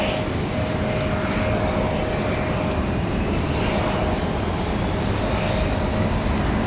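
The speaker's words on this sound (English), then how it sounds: "Jetstar 517 on the milk run down to Melbourne, A320." Jetstar Airbus A320 jet airliner at Sydney Airport, a steady loud broadband roar with a faint engine whine, continuous throughout with no talk.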